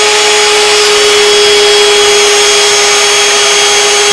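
A CNC machine spindle runs at a steady, loud high-pitched whine with a constant hum beneath, unchanging and continuous for several seconds, with no talking.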